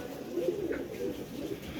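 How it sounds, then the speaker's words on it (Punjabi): Soft, low white pigeon coos rising and falling over a steady background murmur, close by, continuing through the short stretch. "ਇਹ ਸਾਰੇ ਐ ਬਿਲਕੁਲ ਸਾਫ ਸੁਥਰੇ ਐ ਬਦਾਲ ਚਿੱਟੇ ਕਬੂਤਰ ਹੀ ਆ"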